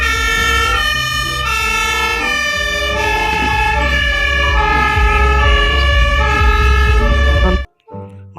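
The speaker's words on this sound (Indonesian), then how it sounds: "ini ada pemadam kebakaran teman-teman" Fire truck siren wailing loud and steady with a rumbling engine underneath, cutting off abruptly near the end.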